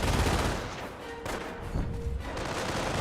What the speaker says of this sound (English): M242 bunker suppressing some of these riflemen.